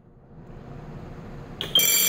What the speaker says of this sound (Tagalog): Itong manual push for emergency. Mag-alarm yan.